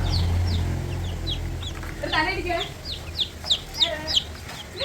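A chicken clucks, with chicks around it, in a home yard: a series of short, sharp repeated calls that grow louder and more frequent toward the end, over a low background hum.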